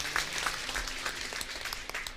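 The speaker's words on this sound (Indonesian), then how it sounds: "Beri tepuk tangan." A church congregation claps during a sermon, a short burst of scattered applause lasting about two seconds at moderate, somewhat distant volume.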